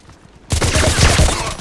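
A 416C rifle fires in Contract Wars as a sudden, loud, rapid burst of shots that starts after a short quiet moment and keeps up for over a second.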